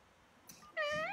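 A person imitates a cat's meow, one drawn-out, rising and falling call after a short breathy sound, close and fairly quiet.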